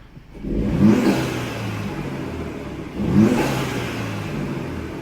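A 2018 Audi A5 Sportback with a 034 Motorsports intake revs twice inside a garage, heard from inside the car with the windows down, each rev rising sharply, then easing back to a steady engine whir.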